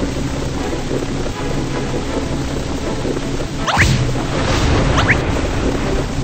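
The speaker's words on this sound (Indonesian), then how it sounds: "Ada badai, hati-hati." A steady roar of rain and wind with a deep rumble of thunder breaking in partway through, loud and continuous with no pauses.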